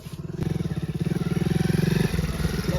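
Motorcycle engine running close by, a loud pulsing rumble that builds steadily over a few seconds and then settles, with no speech over it.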